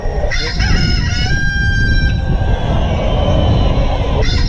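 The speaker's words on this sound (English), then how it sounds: "get ready for the cock crow." A recorded rooster crow blares over loudspeakers at the start of the Comrades Marathon guided run, a long drawn-out call rising above a loud crowd murmur.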